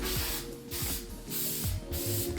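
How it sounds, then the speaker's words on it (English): Crystal clear coat sprayed from an aerosol can onto a paper dagger, with several broad hissing bursts separated by brief pauses and faint clicks of handling between them, close and steady. "dust it with clear coat"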